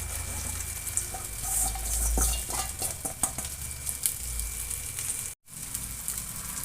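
Rice tipped into a pan of lemon rice tempering with turmeric and salt, then stirred: steady sizzle with scraping spoon strokes and clinks against the pan, close and fairly quiet, with no talk.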